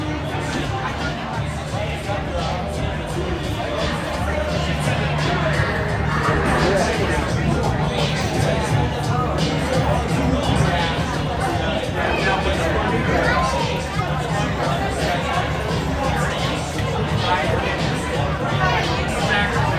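A steady murmur of crowd chatter fills the stands at a youth football game, many overlapping voices blending into a constant, moderately loud hubbub for the whole stretch.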